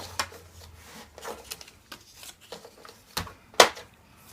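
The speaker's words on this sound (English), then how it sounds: "And again, we're going to accordion fold it." Scored paper for a memory folio pouch is accordion folded, giving soft crisp rustles and a few sharper creasing snaps, close and quiet with no talking.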